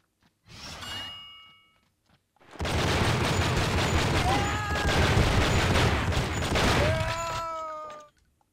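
A dense burst of game gunfire from a shootout in True Crime: Streets of LA runs for about five seconds, loud and continuous, with short metallic ringing tones before and after it.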